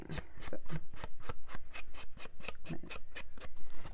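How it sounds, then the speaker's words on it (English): A sponge dabs ink onto the edges of a stamped paper card with rapid, evenly spaced scratchy rubbing strokes. About a dozen strokes come close and steady over a few seconds, with no voice. "give it a little more definition and depth by sponging the edges."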